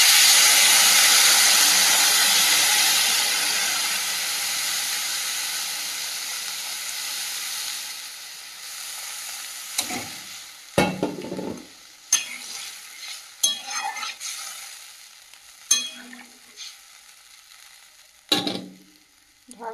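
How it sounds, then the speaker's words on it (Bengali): Water poured over vegetables frying in a home kitchen pan sets off a loud, broad sizzle that fades over several seconds, then sharp scraping stirs and utensil knocks land at irregular intervals. "সবজিটা খুব ভালো করে ভেজে নিয়েছি, পরিমাণ মতো জল দিয়ে দেবো।"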